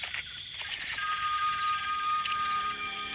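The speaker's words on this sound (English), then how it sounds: "Random phone ring." A telephone rings in a scene from the horror film Sleepaway Camp, a bright sustained electronic ring playing over a steady background and continuing throughout, with no talk.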